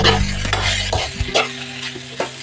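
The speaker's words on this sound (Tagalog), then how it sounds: "Then, haluin natin para parehas yung lasa." A spatula scrapes and stirs fried rice with oyster sauce in a hot pan, several uneven scraping strokes over a steady sizzle, close and fairly loud.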